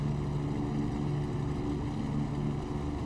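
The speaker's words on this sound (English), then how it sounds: "Engine noise?" A steady, dense drone of an aircraft engine in a flight game plays alone and loud, a constant low rumble with no change in pitch or level.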